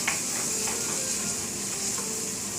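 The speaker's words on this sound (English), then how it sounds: "And saute the onions in the butter till the onions become a little bit transparent." Chopped onions sauté in melted butter with a soft, steady sizzle and a few light stirring clicks, close and even throughout with no talk.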